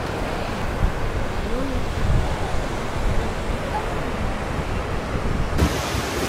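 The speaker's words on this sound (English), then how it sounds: "It's a little overcast, but the wind has picked up a bit and it's a little chilly out now" Steady wind buffets the microphone over a continuous wash of surf at an overcast seaside, broadband and loud throughout with no talk.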